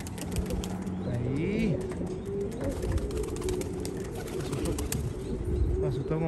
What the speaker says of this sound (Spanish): Ahí viene la palomita.